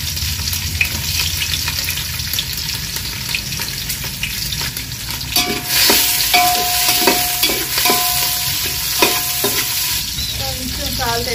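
Sliced onions and green chillies sizzle steadily in a hot pan as a spoon stirs and scrapes through them, with occasional sharper clinks against the metal.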